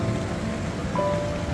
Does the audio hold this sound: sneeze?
no